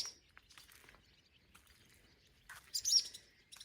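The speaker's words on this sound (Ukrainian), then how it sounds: "Ой, парочка ця літає ластівок, ось що витворяють." A pair of swallows flying near a house gives a few faint, sparse chirps, with a short brighter cluster of twittering near the end against an otherwise quiet backdrop.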